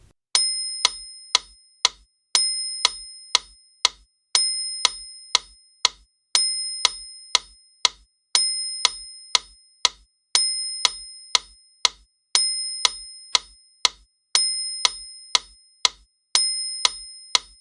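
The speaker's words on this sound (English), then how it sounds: "Now you'll hear the metronome" A metronome ticks steadily, with a brighter accented click starting each group of four, sharp and isolated against silence.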